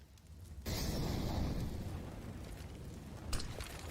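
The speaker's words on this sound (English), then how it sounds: "Grenades streaming into the B bomb site." Grenades burst into the B bomb site in a professional Counter-Strike match, a sudden loud boom followed by a sustained rumbling roar and a second sharper blast near the end.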